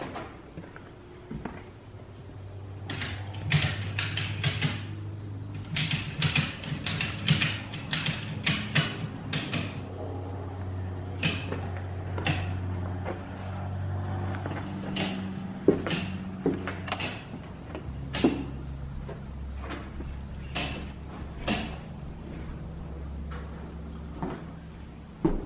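A castle wall at Mooreland House pried with a steel bar, giving repeated sharp creaks, cracks and scraping knocks in irregular bursts over a low hum.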